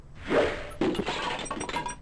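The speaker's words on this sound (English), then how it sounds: "The magic arrow completely shatters the shield." A magic arrow smashing through a shield in King's Quest VI: a whooshing hit followed by a bright shattering crash and scattered breaking debris, close and fairly loud, with no talk.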